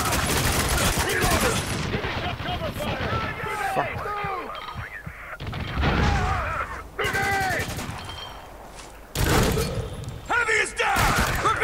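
AA-12 shotgun fire in a Spec Ops: The Line battle, rapid heavy blasts in clusters with gaps, mixed with shouting voices and chaotic combat noise.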